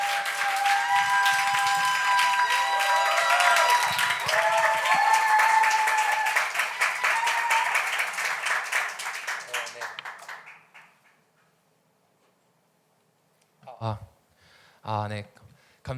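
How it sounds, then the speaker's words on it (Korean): Audience applause before a lecture at a Korean church gathering, a burst of clapping and music-like tones for about ten seconds that fades out, followed by silence and then a few short bursts of a speaking voice. "박수!"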